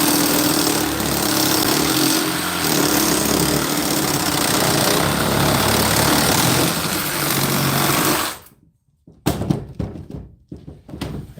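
A small reciprocating saw cuts through copper and brass pipe scrap, a dense, steady buzzing rasp that runs continuously for about eight seconds, then stops abruptly, followed by a few short knocks and clatters.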